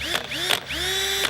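Cheap Chinese power drill whirring with rising and falling motor pitch, a near, loud whine that speeds up and slows in short bursts, its chuck rattling faintly underneath.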